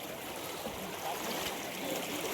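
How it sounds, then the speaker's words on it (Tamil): Steady rushing of river water flowing near Kodumudi, a continuous broadband wash with small trickling detail, close and even in level with no talk. "தண்ணி ஓடுது."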